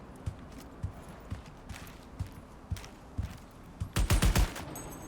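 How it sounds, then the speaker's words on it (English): A light machine gun fires in Cyberpunk 2077. Single heavy shots land at a steady spaced rhythm, then a loud rapid burst of several rounds comes near the end, with no talking. "I want to look at the light machine gun."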